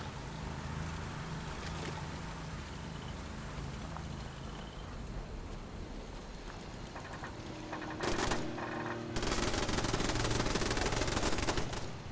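Automated turrets fire guns in Fallout 76, a steady stream of rapid shots and mechanical game noise that swells louder near the end, with no talk over it.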